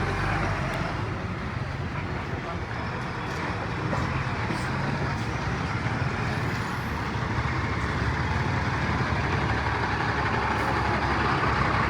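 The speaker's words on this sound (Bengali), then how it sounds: "কয়েক হাজার ট্রাক এই মুহূর্তে একেবারেই কিন্তু রাস্তা আটক হয়ে আছে" Thousands of trucks stand stuck along a flooded road, producing a steady low rumble of idling engines and traffic noise that stays continuous and fairly distant throughout.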